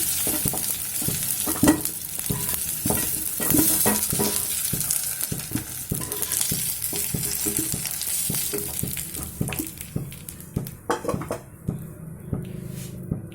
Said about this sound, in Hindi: पोटैटो फ्राई हो गया है। अभी मैं पोटैटो को निकाल लूंगी।